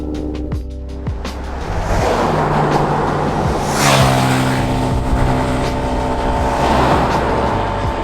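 Cars pass along a road near a roadside campsite at a mountain lookout. Several vehicles sweep by in turn, with swelling and fading whooshes and engine hums. Each one is fairly close and loud, and no one speaks.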